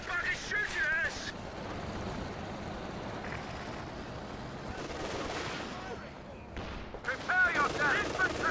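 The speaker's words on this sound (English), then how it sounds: "Somebody's shooting us!" Gunfire in the World War II strategy game Company of Heroes 2: continuous rattling machine-gun fire and scattered shots under battle noise, with in-game soldier voices shouting.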